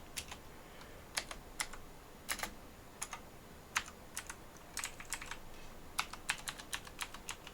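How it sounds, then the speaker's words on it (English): Irregular clacking of keys pressed one after another on a computer keyboard, close and crisp, with bursts of quick taps and short pauses over faint background hiss. "As I press literally every key on my keyboard."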